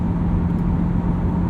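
Steady engine drone and road noise from a 2021 Chevrolet C8 Corvette Z51 with Performance Package, a mid-engine car, heard from inside while driving, a constant low hum with no talk over it.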